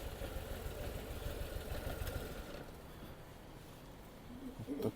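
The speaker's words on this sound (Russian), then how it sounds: "Мотоцикл." Motorcycle engine idling steadily at a mandatory vehicle inspection in Japan, a low continuous rumble at moderate distance that eases slightly midway with a small bump near the end.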